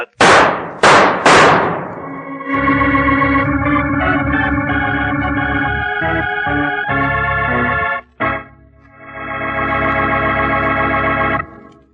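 Sharp, loud gunshots ring out in quick succession in a Sherlock Holmes radio drama, followed by sustained dramatic music that briefly cuts out before resuming.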